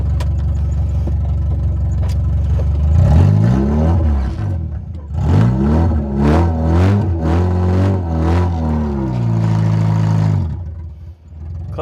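A Honda car with a newly replaced clutch master and slave cylinder and braided line runs after being started. Its engine revs up and down in a series of close, loud swells before settling.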